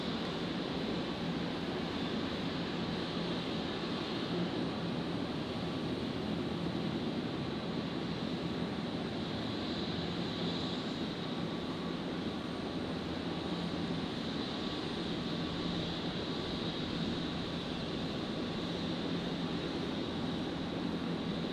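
Qantas flight 197 rotating off runway 01 right at Brisbane International Airport at night, a steady, continuous roar of jet engines heard from a distance, with a broad rushing hiss that holds constant throughout, with no voices.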